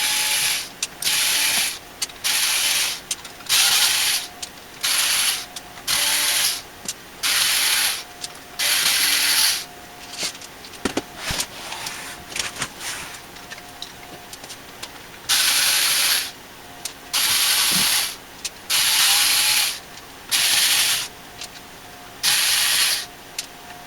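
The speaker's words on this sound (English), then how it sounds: "Let's go ahead and take out the screws." Screws being taken out of a computer mid-tower case with a ratcheting driver, making repeated bursts of whirring clicks separated by short pauses and a few clanks, close up, with no talk.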